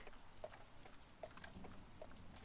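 Rain falls steadily in a faint, soft hiss, with scattered drops pattering close by and no voices.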